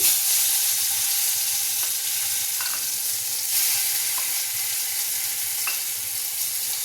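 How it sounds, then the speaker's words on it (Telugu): Masala paste for mutton curry fries in hot oil with a steady close sizzle and hiss, broken by occasional faint pops and scrapes, with no talking. "ఆయిల్ వేడెక్కిన తర్వాత ఈ మసాలా ముద్దని వేయించుకోవాలి"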